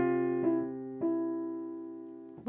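Piano notes from Jingle Bells sound close and clear: sustained chords with a few crisp repeated attacks that ring and slowly fade, alone without voices, ending with a quick new strike.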